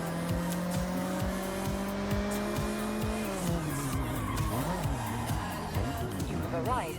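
Racing car engines in the video game Forza Horizon 6 whine and shift pitch as tires squeal through a long skid, loud and continuous.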